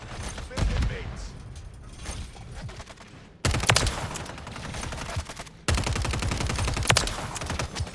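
Rapid automatic gunfire in the shooter game Call of Duty. Loud dense bursts are cut by two abrupt breaks, and a voice is heard over the shooting.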